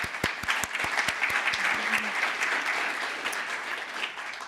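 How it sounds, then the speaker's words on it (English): Audience applause for partners at the 2018 Food Tank DC Summit, a steady, moderately distant wash of clapping with a few sharp nearby claps at the start, fading slightly toward the end. "Can we give them a round of applause, please?"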